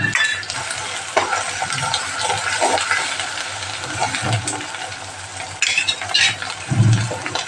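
Onions go into a pan with a coriander, chili, ginger and garlic chutney, giving a soft, steady sizzle broken by scattered clinks and scrapes of a utensil against the pan.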